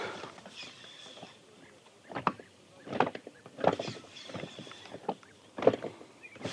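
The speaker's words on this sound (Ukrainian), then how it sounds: "Переставимо трішки човна." Hollow knocks and thumps of a small boat being shifted, with water sloshing and creaks, several irregular bumps close by.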